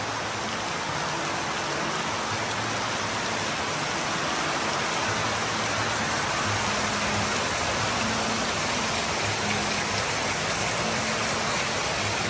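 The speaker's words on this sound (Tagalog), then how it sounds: "Grabing ulan ito, lakas!" Heavy typhoon rain pours down steadily in a Philippine residential area, a loud, dense, unbroken roar of water close by that lasts throughout without pause.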